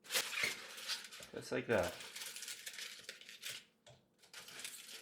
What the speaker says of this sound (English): We're going to open up the air fryer and we're going to put the aluminum tinfoil in.